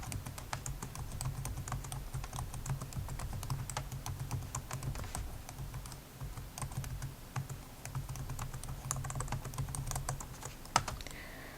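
Rapid, steady clatter of keys on a computer keyboard as numbers are entered, close and continuous with a low hum beneath and no talking.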